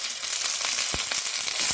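Steady close sizzling of green bell peppers frying in a hot pan, with a few soft clicks and stirring scrapes, no talking.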